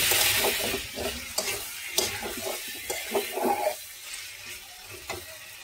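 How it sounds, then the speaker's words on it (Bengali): Fried potatoes are turned in a pan of cooked-down spice paste, with scraping spoon strokes coming in irregular bursts over a soft sizzle that fades toward the end, close and without speech. "ভাজা আলুটাও মশলার সঙ্গে সামান্য একটু নেড়ে চেড়ে কষিয়ে নেব।"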